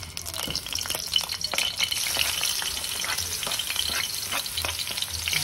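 Sautéing in a frying pan for a mung bean dish with dried fish, a constant close crackling sizzle with scattered stirring scrapes, steady and unbroken with no voices.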